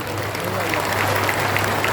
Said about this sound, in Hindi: और एक बार आचार्य महाराज जी को ताली बजा के धन्यवाद दे दो।